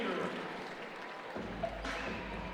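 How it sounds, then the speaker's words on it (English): Notre Dame's home crowd cheers and applauds at a college basketball game against St. Peter's, a dense, steady roar of many voices filling the arena, swelling slightly louder midway through. "The Irish crowd letting them know."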